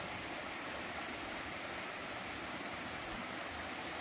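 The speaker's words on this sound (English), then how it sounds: "So you get to listen to the brook all night long." A brook flows right beside a campsite on the Appalachian Trail, a steady, close rushing of water with an even, unbroken wash and no voices.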